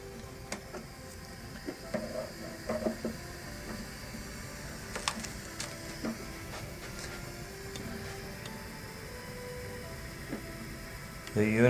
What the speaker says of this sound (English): As you can see, the unit is printing all by itself